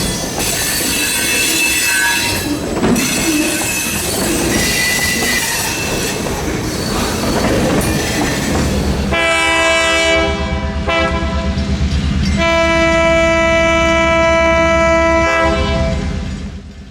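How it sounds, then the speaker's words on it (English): A Florida Midland Railroad freight train led by a CF7 locomotive rolls through downtown Lake Wales, wheels squealing and clattering up close before a loud, sustained multi-tone horn blasts repeatedly over the engine rumble. "the train heads south through downtown Lake Wales with the 48 leading the way"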